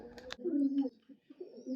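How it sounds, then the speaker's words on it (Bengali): A pair of young pigeons cooing close by, low throaty rolling coos in two short bursts with a brief gap, preceded by a couple of quick clicks and faint chirps. "এ হচ্ছে এক জোড়া কবুতর।"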